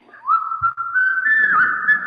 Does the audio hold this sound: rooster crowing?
no